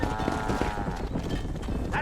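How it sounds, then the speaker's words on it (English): A herd of cattle and horses in the western video game Red Dead Redemption, with hoof clip-clops, animal shuffling and occasional low calls over steady outdoor ambience. "Herd the cows down the road."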